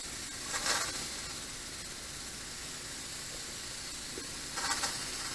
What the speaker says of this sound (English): it's having to let some of the steam out through the top